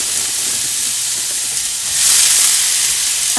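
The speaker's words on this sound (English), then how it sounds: "Ooh, got a searing pan there." Loud, steady sizzling and hissing fills the air as food sears in a very hot pan for pineapple chicken fried rice, swelling briefly near the end, with no talking.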